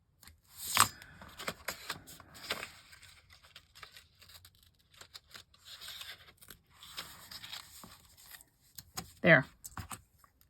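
Scissors cut through a paper cover for an Anne of Green Gables journal, with scattered snips and rustling paper at close range, a sharp crisp cut near the start and another near the end.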